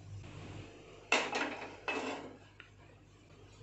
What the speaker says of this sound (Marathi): फोडणी आहे ना आपल्याला ढवळून घ्यायची आहे थोडी.